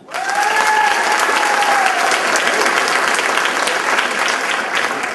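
Loud, dense applause from a theatre audience fills the whole stretch, starting abruptly and holding steady without a break, with a voice faintly audible at the start.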